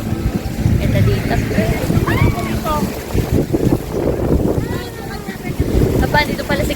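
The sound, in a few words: wind at the beach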